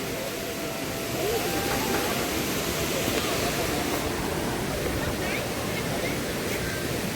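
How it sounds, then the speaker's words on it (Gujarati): Koshmal waterfall in monsoon rain, a loud continuous broadband rush of falling water heard from nearby, steady and unbroken with no voices over it. "તે સામે દેખાય છે એક ધોધ"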